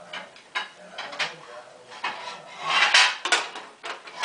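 A utensil scrapes and pushes food around in a pan, giving close, irregular scraping and rubbing with occasional clinks against the metal. A brief stretch of quiet voices sits faintly beneath.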